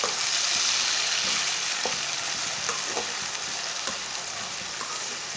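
Onion, tomato and three green chillies sizzle steadily in a pan as they are stirred, with faint scraping clicks from the spoon over a continuous close frying hiss, no voices.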